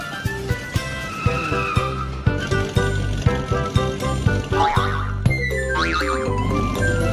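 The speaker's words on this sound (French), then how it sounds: "les voitures vont vraiment très vite" Cartoon cars race through a kitchen and skid, with engine whines and tire squeals over a busy, rhythmic background of thumps and effects, loud and close throughout.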